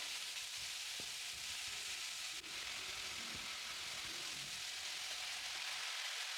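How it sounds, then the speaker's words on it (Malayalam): Onions and shallots sauté in a pan for a Malayalam-style clam roast, giving a faint, steady sizzle and crackle with soft stirring, no voices over it. "അപ്പോൾ ഈ സവാളയും ചെറിയുള്ളിയൊക്കെ നല്ലപോലെ തന്നെ വഴറ്റിയെടുക്കണം."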